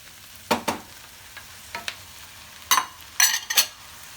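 Tomato hitting a hot frying pan while cooking Armenian dolma: several short bursts of sizzling and stirring, moderately loud and close, with quiet pauses between them and no talk.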